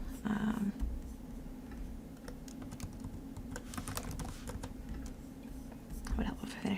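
Quiet, rapid clicking of keys on a computer keyboard during coding work, irregular taps running throughout, with soft speech murmured over the keystrokes.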